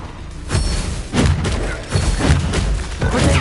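An Incendio fire spell cast in the video game Hogwarts Legacy, loud booming whooshes and thuds repeating every half second or so in a close, dense flurry of magical combat.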